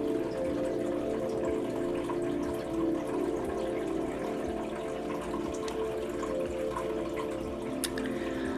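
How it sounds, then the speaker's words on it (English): Steady rushing water from a waterfall pours continuously with a dense, even roar and occasional splashy drips, fairly close and unbroken throughout. "The mist of the water coming off the waterfall is refreshing."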